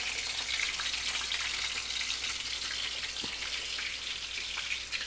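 Food sizzling steadily in hot cooking oil, a dense continuous hiss with faint crackles, close and fairly loud throughout, no talking.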